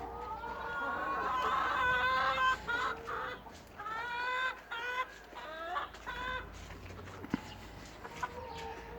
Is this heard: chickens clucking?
yes